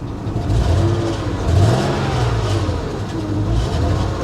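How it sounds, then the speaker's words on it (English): A car engine at an insurance auto auction is revved with a misfire, a rising, wavering rumble that swells and falls unevenly, heard close and alone. "Let's give it a little rev. Is that a misfire?"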